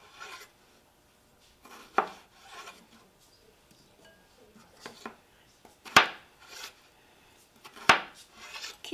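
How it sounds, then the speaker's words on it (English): Kids chopping cucumber for a salad: a handful of sharp, separate knife strikes against a cutting board, spaced irregularly among softer scraping and rubbing sounds in a quiet room. "It will take a bit to chop though, since there's so much."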